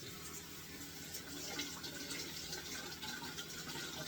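Raw oat seeds being rinsed in a large bowl: steady running, splashing water fills the clip at moderate level, continuous with no talking.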